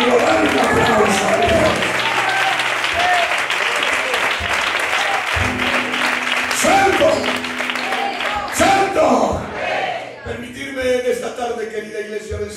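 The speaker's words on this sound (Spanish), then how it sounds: "Dale un aplauso." Church congregation breaking into loud, sustained applause after a sermon point, dense clapping with cheers and voices mixed in, fading near the end as talk resumes.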